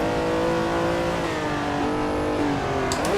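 A Ferrari 330 P4 racing engine in Assetto Corsa revs steadily, its pitch climbing through gears with shifts, loud and close, with a brief tire squeal near the end.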